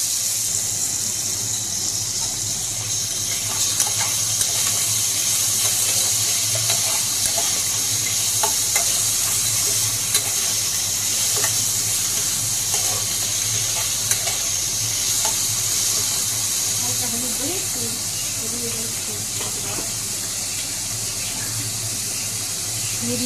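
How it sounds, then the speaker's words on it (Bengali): Cut potato and carrot fry in oil in a wok, making a dense, even hiss that runs unbroken and fairly loud from start to finish. "এখন আলু আর গাজরটা ভালোভাবে ভেজে নেব।"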